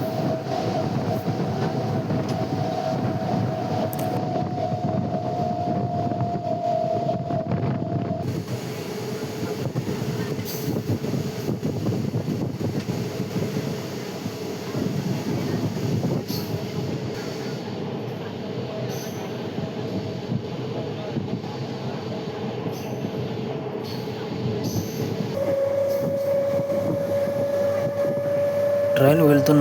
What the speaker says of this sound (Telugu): ఆ ట్రైన్ సౌండ్, పట్టాల సౌండ్ చాలా బాగుంటాయి.